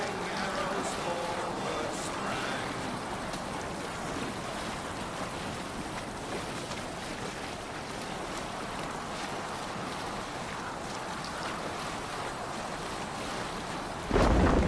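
A boat moves across open water in Assassin's Creed Valhalla, with steady waves, water wash and wind noise running at moderate level throughout and a voice calling out over it.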